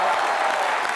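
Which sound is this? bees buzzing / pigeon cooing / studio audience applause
studio audience applause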